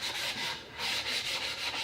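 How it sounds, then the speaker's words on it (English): Sandpaper rubbed by hand over a small wooden soap mold, soft rhythmic back-and-forth scratching strokes, close and quiet. "what remains is doing a little sanding"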